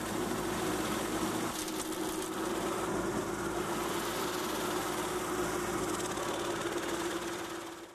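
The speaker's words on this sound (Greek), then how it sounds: "έθεσε σήμερα σε δοκιμή ένα νέο σύστημα οικολογικού καθαρισμού με νερό, ατμό και φυτικές ίνες" Machine for ecological cleaning with water, steam and plant fibres, under test by a municipality in Chania, Crete: a steady, loud mechanical drone and hum running without break, with a brief rise in noise early on.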